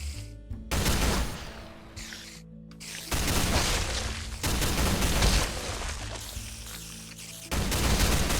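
An LMG turret in the Minecraft Techguns mod fires at spiders in long, rapid bursts of gunfire broken by short pauses. The shots are loud, close and dense, with no talk.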